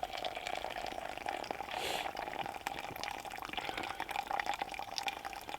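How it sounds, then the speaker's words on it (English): Hot water from a kettle is poured into a filter coffee pot, a steady trickling fill with a gurgling swell near the start, close and constant, with no talk. "Kettle's nice and hot. Beautiful. Right. What I'm going to do is pour this in"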